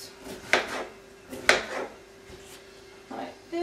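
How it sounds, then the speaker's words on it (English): A knife slicing zucchini into long strips on a cutting board, a few distinct close chops spaced about a second apart, with light scraping between cuts. "So I'm just going to chop up the zucchinis like so, and I like cutting the zucchini into long strips"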